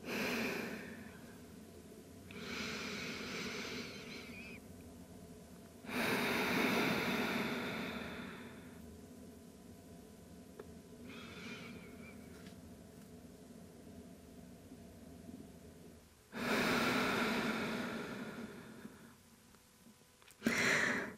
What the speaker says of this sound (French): Et respirez tranquillement ici.